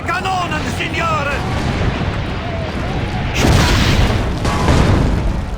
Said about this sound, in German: Ladet die Kanonen. Vernichtet ihre Kanonen, Signore!